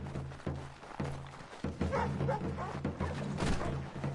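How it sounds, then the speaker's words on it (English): Dog barking inside the video game Assassin's Creed 3, a few short yips and woofs over a steady low in-game ambient hum. "Aw, look at the doggy."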